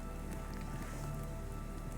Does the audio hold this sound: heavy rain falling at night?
yes